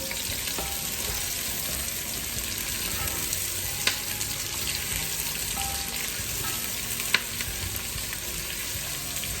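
Chopped garlic frying in hot oil with onions in a pan, a dense, continuous sizzle with a couple of faint clinks from stirring, close and steady throughout.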